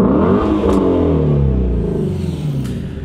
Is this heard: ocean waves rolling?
no